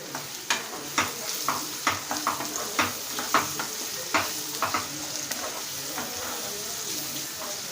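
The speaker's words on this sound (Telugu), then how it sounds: "ఇప్పుడు ఇందులోకి చింతపండు వేసుకొని ఒకసారి కలిపేద్దాం." Cooked cucumber being stirred together with tamarind in a pan for Telugu dosakaya pachadi, with a steady run of sharp spoon scrapes and clacks against the pan over a soft sizzle, close and fairly loud, with no talking.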